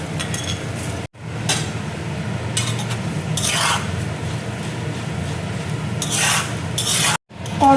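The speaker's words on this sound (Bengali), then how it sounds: "কর্নফ্লেক্স দেখো ভাজা হয়ে গেছে," Cornflakes frying and being stirred in hot oil in a wok for a homemade chiwda snack make a steady close scraping, rustling rasp with brief clinks and two short breaks in the sound.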